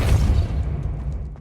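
A single deep, booming burst, the Depulso force spell cast in the video game Hogwarts Legacy, hits loud and low, then fades away over about a second.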